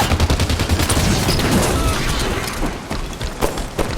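Grenade blasts and rapid gunfire from a Halo 5 Warzone match, with dense overlapping shots and booms at close range, loud and sustained before easing off slightly toward the end.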